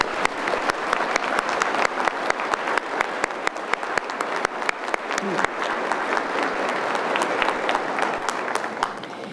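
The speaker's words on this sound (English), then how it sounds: "applause." Dense applause from a large audience at a college commencement ceremony, with many overlapping claps of steady loudness that carry on without a break throughout.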